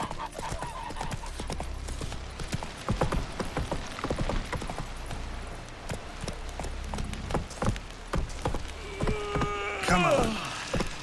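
Horse hooves clip-clopping at a steady riding gait in The Witcher 3: Wild Hunt, repeated thuds over game ambience with a neigh near the end and a voice speaking briefly.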